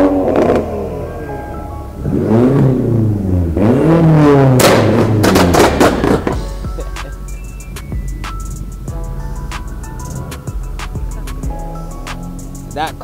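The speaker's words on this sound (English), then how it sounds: "That car, dangerously loud." A loud car at a car meet revs hard in several sharp bursts, then settles into a rough idle punctuated by crackling pops, close and dominant.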